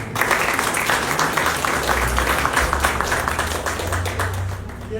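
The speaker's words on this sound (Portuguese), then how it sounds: "Palmas para ela também." Applause from an audience at an academy of letters induction ceremony, a dense, continuous wash of many hands clapping, steady and fairly loud throughout.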